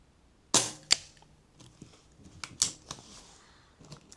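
A sub-12 ft-lb air rifle fires at a target 50 yards away, producing a sharp, close crack, then a quick follow-up snap and later clicks, all fairly quiet against a calm outdoor background.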